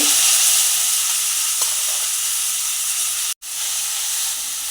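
Grated carrot sautéing in ghee on low heat, a loud steady sizzle and hiss that cuts out for an instant before resuming.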